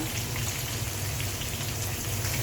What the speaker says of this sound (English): We're just frying the onion now.